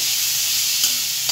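Onions dry-roasting in a pan until pink, giving a steady, even frying hiss close by with faint stirring scrapes near the end and no talking.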